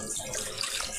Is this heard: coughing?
no